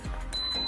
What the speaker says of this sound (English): it's gonna beep and say on.